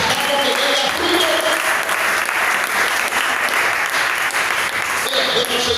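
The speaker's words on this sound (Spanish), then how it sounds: "Dale un aplauso a Cristo." A church congregation applauding in steady, dense clapping that stays loud and close from start to finish, with faint crowd voices blending into it.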